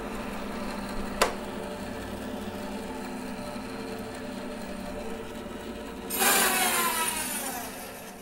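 Saw cutting through a freshly-cut Japanese maple log, a sharp snap early on, then a burst of rasping strokes starting about two-thirds through, close and fairly loud over a low steady background.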